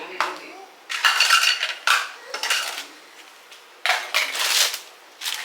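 Metal cooking pots and spoons clatter and clink in several bursts as they are sorted, close and fairly loud, with brief quieter gaps between handlings.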